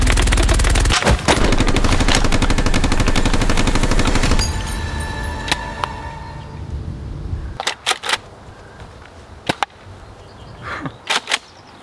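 Nerf toy guns firing in a staged battle, a loud rapid clatter of shots for several seconds, then it thins out into scattered single snaps and pops with no voices.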